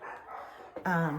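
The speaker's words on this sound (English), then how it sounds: "you're going to hear my dogs barking today" Pet dogs barking indoors near an open door: a low muffled bark, then a short loud yelping, whining cry near the end, close and alone without talk.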